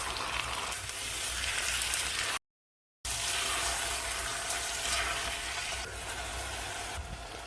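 Onion and tomato sauté in oil, giving a soft, even, hissing sizzle throughout, broken by one brief cut to silence, with no voices over it.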